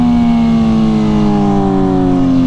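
A BMW M1000RR sport motorcycle fitted with a loud aftermarket exhaust revs hard and close by. Its strong, steady engine roar drifts slightly in pitch across the whole stretch, with no voices.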